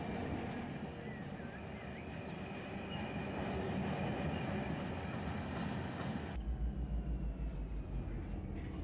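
Freight train locomotives rumble steadily in the Run 8 rail simulator, a dense continuous roar with faint squealing tones, the sound cutting abruptly to a lower, quieter engine drone near the end.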